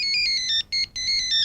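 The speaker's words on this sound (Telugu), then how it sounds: "ఫోన్." A mobile phone ringtone plays a bright, repeating electronic melody in short bursts with a brief gap, loud and close, with no talk.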